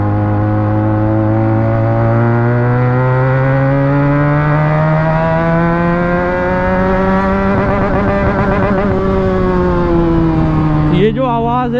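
Revving loud and close, a Benelli 300TNT motorcycle with an Akrapovic exhaust holds a strong, rising-and-falling engine whine with rich harmonics, climbing steadily then dropping sharply near the end.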